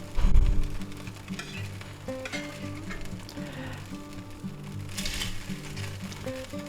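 Spicy beef and vegetables with mushrooms sizzle and fry steadily in a pan with their marinade, with a loud initial hiss and the occasional scrape of stirring.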